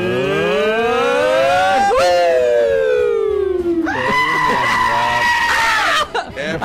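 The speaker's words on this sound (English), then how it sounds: "I like really enjoy listening to the goat" A goat bleat played over a radio show, loud wavering cries with sliding pitch that repeat in two long stretches, leaving no pauses between them.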